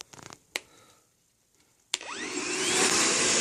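A repaired Babyliss Pro Ferrari hair dryer clicks a few times, then its motor starts with a sharp switch click and a rising whine that swells into a loud, steady, close airflow roar.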